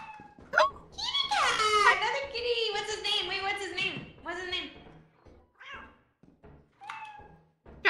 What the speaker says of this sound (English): Ow. Hello, cat.